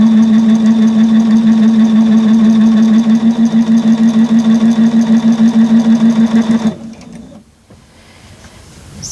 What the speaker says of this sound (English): this is the first stitch I've made since I cut my machine back on today